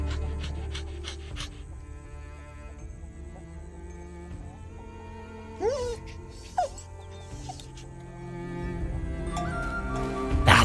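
A dog in the video game Yaga whimpers and pants, with soft breathy panting throughout and a few short whining yelps rising midway and near the end, set against the game's ambient background music.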